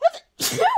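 A single sharp human sneeze, loud and close, preceded by a brief spoken word and a short pause.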